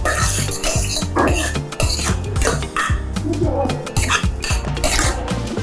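A spoon clanks and scrapes rhythmically against a metal pot while seasoning is mixed into thick ewedu soup, giving loud, close, repeated stirring knocks.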